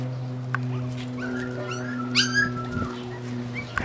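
Puppies whimper and yip softly while trying to suckle from another female dog, a few thin high cries over a steady low hum, close by and fairly quiet.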